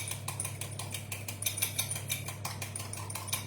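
A fork rapidly beats egg wash in a bowl for a poultry, mushroom and lardon pie, a quick steady ticking of metal tapping the dish, close and moderately loud over a low hum.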